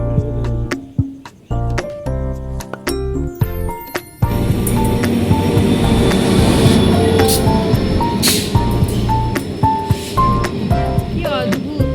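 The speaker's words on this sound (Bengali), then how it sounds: "হঠাৎ মাঝখানে একটা ট্রেন চলে আসে" A train rolls through a tea garden, its wagons rumbling loudly and steadily close by, with squealing wheels and a horn-like tone rising over the clatter.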